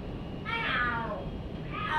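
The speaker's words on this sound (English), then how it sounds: "Are there cats fighting? What are they screaming for?" Cats in the Lost Judgment video game let out drawn-out, wavering yowls, two screeching cries rising and falling over a dull background rumble.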